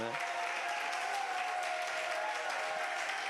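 An audience at a church retreat claps, a continuous patter of many hands running the whole time, with a voice faintly present underneath.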